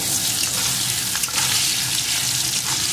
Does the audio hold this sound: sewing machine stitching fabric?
no